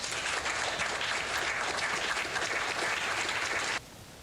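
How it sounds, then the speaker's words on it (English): Steady, rapid hand clapping, loud and dense for several seconds, then cut off abruptly near the end, leaving a quieter background. "I'll give you a clap for that."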